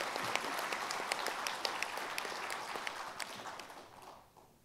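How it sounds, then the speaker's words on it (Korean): Audience at a National Assembly symposium on founding a public medical school in South Jeollanam-do, clapping in a dense, warm burst of applause that holds steady a few seconds, then quickly tapers off and fades out. "그래서 이 2분한테 정말 뜨거운 박수 한번 부탁드립니다."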